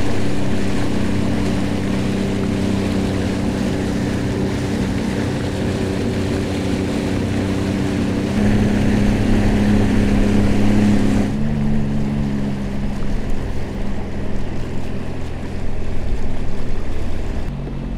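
A Sea-Doo engine drones loudly and steadily on a river, a continuous close motor hum with slight shifts in pitch, accompanied by water rushing past.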